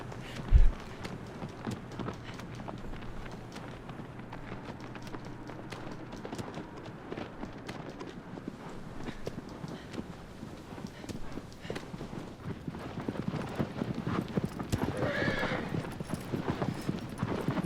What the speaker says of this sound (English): We're about to go through a desert on a horse